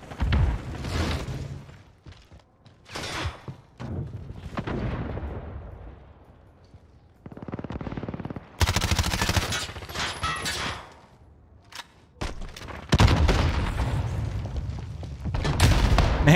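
Explosions and gunfire in Call of Duty Warzone: several heavy blasts and bursts come in separate loud bursts with short quieter gaps between them, including a long harsh burst in the middle and louder blasts near the end.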